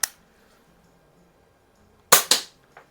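A Crosman air gun fires a pellet inside a garage: one sharp crack at the start, then after a pause a pair of quick snaps and a fainter tick, all close and dry against a quiet room.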